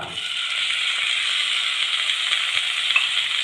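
Chopped tomatoes hit hot oil in a pan for a tender jackfruit and dry prawn curry, giving a steady, close hissing sizzle that runs unbroken throughout with no voices.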